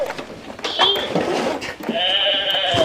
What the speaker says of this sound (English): You get a sheep, apparently.